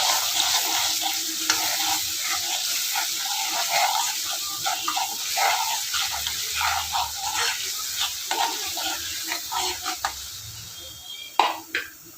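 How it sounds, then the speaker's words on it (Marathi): Ground masala paste roasts in a pan for tomato saar: a steady sizzle and frying hiss with repeated scraping and stirring strokes, plus a few sharper clinks near the end. "आपल्याला वाटण टाकून घ्यायचं आहे। भाजून घ्यायचं आहे।"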